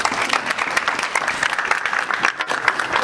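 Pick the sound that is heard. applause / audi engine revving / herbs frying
applause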